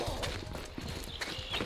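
Horse hooves clip-clopping in the medieval combat game Mordhau, a fast rhythmic trot with neighing hints, moderately loud amid battle noise and faint speech.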